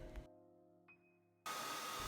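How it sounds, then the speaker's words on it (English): A hair dryer, used to heat toy suit glove and boot pieces, switches on abruptly and blows with a loud, steady broadband whoosh, preceded by a brief quieter hum and a faint tone. "Then we fire up the hairdryer so we can heat up the glove and boot pieces so they're flexible."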